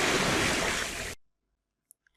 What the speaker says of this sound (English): up in nature folder, we have sounds like calm sea on pebbles